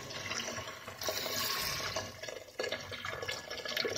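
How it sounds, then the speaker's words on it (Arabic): Hot water poured into a cooking pot holding half a chicken stock cube, a steady splashing pour filling most of the clip with a brief break near the middle, close and fairly loud with no talk. "غنمرق بالماء الماء يكون سخون ما يكونش الماء بارد"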